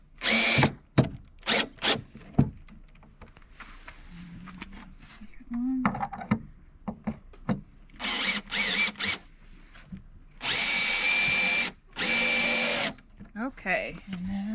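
A power drill drives pre-drilled screws into a wooden planter box panel, several loud whirring bursts of varying length stopping and starting, with someone talking quietly in the gaps.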